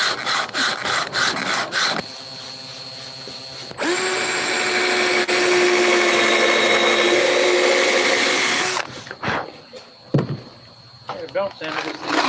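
A belt sander runs on a workpiece for about five seconds in a loud, steady whine and rasp, bracketed by bumps, clatter and people talking nearby.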